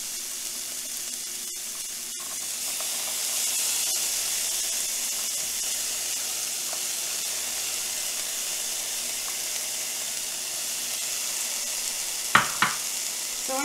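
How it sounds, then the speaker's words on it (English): Onions sauté in a pan with a steady, close sizzle and hiss that carries on throughout, broken near the end by a couple of light clicks of a utensil against the pan. "So I'm just going to saute that very briefly."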